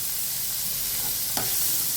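Finely chopped onions fry on high heat in a pan, a continuous bright sizzle with one brief stirring scrape partway through.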